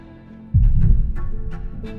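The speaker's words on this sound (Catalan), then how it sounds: "Hi ha batecs que no es poden veure, però sí sentir." A heartbeat sound effect, with deep low thumps that swell in suddenly and then pulse in a steady, loud rhythm for a couple of seconds.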